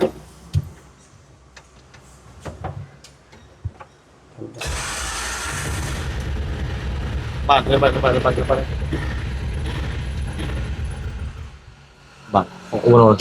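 An Atul Gem Paxx diesel auto-rickshaw cranks and fires, settling into a loud, close, rattling idle after a few clicks; a person talks before and during the idle.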